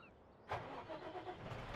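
Small Fendt tractor in Farming Simulator 17 cranks and starts abruptly, then settles into a steady, close mid-pitched idle rumble after a short quiet lead-in.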